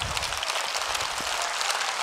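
An audience bursts into loud, sustained applause following a meditation session, many hands clapping together in a thick, even wash of sound.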